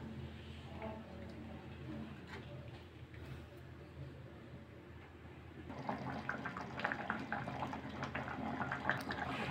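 A pot of shallot sambar simmering and bubbling quietly, steady low gurgling that grows busier and louder partway through, with faint voices in the background.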